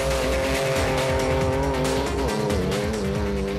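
Off-road race cars in the Adenco 400 set off one after another, a dense continuous engine roar with rising revs and a brief tire squeal, loud and steady throughout with no talking.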